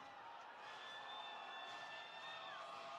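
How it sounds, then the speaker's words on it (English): Crowd cheering and whooping at a Naval Academy ship selection event, a steady sustained roar of many voices with high shrill whistles rising over it, continuous through the moment. "Big cheer"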